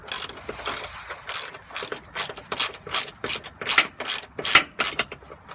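A ratchet wrench snugs running board bolts during an install, sounding as a close series of about a dozen sharp, rapid clicking bursts in a steady back-and-forth rhythm.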